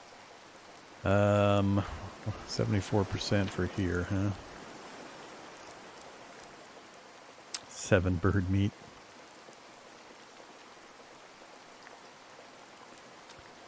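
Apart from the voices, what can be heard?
rain in video game Card Survival: Tropical Island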